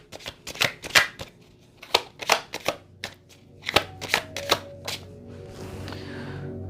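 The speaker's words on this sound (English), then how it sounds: "But I'm still going to pull a card." Tarot cards are shuffled by hand in a quick run of crisp riffling snaps and slaps, close and fairly loud, slowing after about five seconds before a soft hiss trails off.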